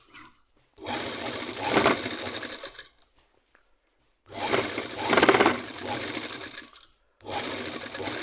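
A sewing machine runs stitches along the edge of a band kameez in two long bursts of about two seconds each, separated by pauses, with a third burst starting at the end. The whirring is steady and close, with no talking.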